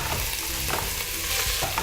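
Chopped onion, pepper and celery sizzle and hiss in a hot pan for a sweetcorn chowder, a steady close frying crackle with light stirring and no talk.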